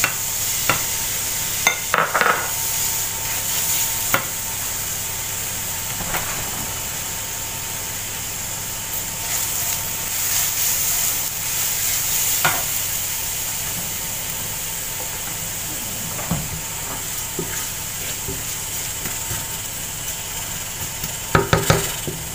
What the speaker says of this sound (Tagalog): gisa na natin ang bawang.